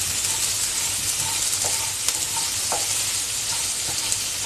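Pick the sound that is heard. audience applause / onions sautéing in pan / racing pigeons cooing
onions sautéing in pan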